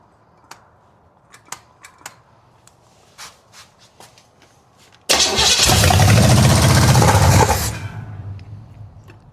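A big block Buick V8 catches on its first start and settles into a loud, steady idle for a few seconds, then drops off, after a stretch of light clicks and shuffling beforehand.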